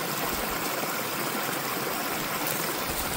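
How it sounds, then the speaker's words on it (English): Water spills over the crest of a beaver dam analogue at King Bolt Creek and tumbles down spruce boughs, sticks and mud, making a steady, close, broadband rush with no voices. "you can see the water spilling over the dam crest, and then it's tumbling down all this, these spruce boughs"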